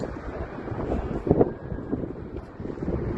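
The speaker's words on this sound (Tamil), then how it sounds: "காற்று பயங்கரமான காற்று" Strong, cold wind buffets the microphone on a bridge over a river in the Netherlands, a continuous rough roar with gusts swelling and fading.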